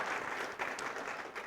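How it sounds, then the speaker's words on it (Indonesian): Steady applause from an audience at a church sermon, a continuous fairly faint wash of clapping with no pauses. "ya boleh tepuk tangan"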